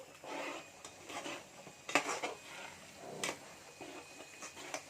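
Omelet curry being stirred in a pan, with a spoon scraping and clinking against the metal in uneven bursts and a few sharper taps, fairly quiet and close, with no talk over it.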